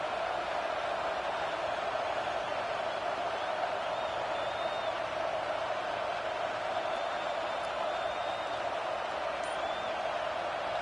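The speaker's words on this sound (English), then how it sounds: "how nice is it to have the home crowd going absolutely bananas?" Stadium crowd roar in the college football video game College Football 26 during a Michigan versus Penn State game, a loud, steady, unbroken wash of cheering noise with no clear voices standing out.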